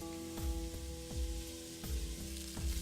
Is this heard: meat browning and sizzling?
yes